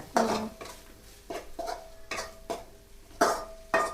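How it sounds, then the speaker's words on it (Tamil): A spoon scrapes and clatters around a metal pan as home-ground chili powder is stirred into a fish curry, about eight close, sharp strokes in a loose rhythm over a soft sizzle. "அந்த மிளகாத்தூள் போட்டு எல்லாத்தையும் சேர்த்து கிண்டுன்னு கிண்டி விடுங்க."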